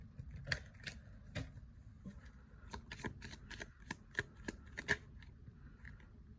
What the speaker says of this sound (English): Let me get one last card.